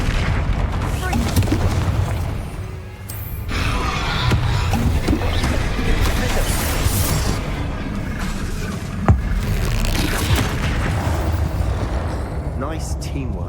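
A Confringo blast spell in Hogwarts Legacy, cast during a troll fight amid other combat spells, gives booming impacts over a loud, continuous battle mix with a spoken incantation and a sharp hit near the end.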